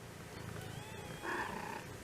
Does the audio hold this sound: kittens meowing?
yes